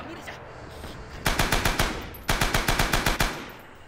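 Two long bursts of rapid machine gun fire in the World War II shooter game Rising Storm, each a loud, steady string of sharp shots about a second and a half long, split by a brief gap.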